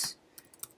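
Someone types code on a computer keyboard, a few quick key clicks close by in an otherwise quiet room.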